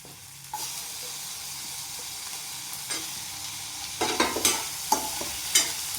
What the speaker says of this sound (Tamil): இப்போ நம்ம கட் பண்ணி வச்சுருக்கிற கொழுமிச்சங்காயை இதில் போட்டுக்கலாம்.